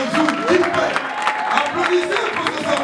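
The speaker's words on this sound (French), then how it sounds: "Applaudissez pour ce serviteur de Dieu." A church congregation applauds a preacher during a testimony service, broadband clapping running steadily throughout while voices call out and talk over it.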